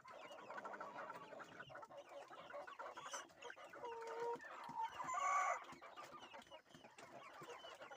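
Chickens cluck steadily nearby, with a rooster crowing loudly partway through amid rustling farmyard noise.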